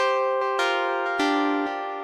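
A synthesizer saw wavetable oscillator plays a bright, buzzy sustained tone rich in overtones, changing pitch a few times over two seconds with short note attacks, clear and alone.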